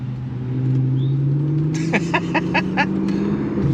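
Mercedes S65 AMG with a V12 engine revs hard under acceleration, a steady loud drone rising in pitch, with a burst of sharp repeated squeals from spinning tires midway through.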